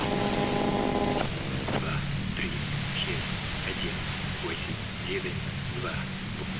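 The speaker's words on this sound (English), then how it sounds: "you can do it through the white noise." Steady broadband white-noise hiss from a device in the Disco Elysium video game fills the scene evenly, with a brief tonal hum at the start and voices talking over it.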